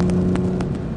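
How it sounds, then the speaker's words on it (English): Low, steady exhaust drone from a 2011 Aston Martin V12 Vantage, a smooth continuous hum that stays fairly loud and even throughout with no talk over it. "that exhaust note sounds wonderfully understated"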